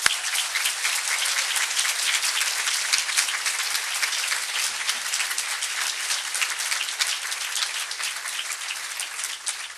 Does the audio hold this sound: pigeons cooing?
no